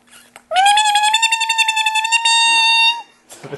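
A person imitates a cat in heat with one long, loud, wavering yowl close by, held for a couple of seconds and pulsing slightly before it cuts off.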